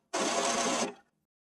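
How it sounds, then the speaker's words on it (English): HP ENVY 100 all-in-one printer cleaning its pick rollers, a single short mechanical whir lasting under a second, close and moderately loud, then silence. "The printer will clean the pick rollers for you."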